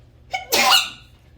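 A single sneeze, short inhaled catch followed by a loud burst, close and alone, during a tabletop role-playing session.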